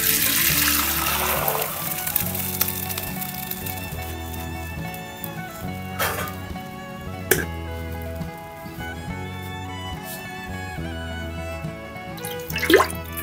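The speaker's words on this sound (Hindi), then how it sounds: "अब मैं ये चावलों को पानी से बाहर निकाल लेती हूँ।" Water trickling and dripping as boiled rice for zarda is drained, close and fairly quiet, with soft background music running throughout and a few louder splashes.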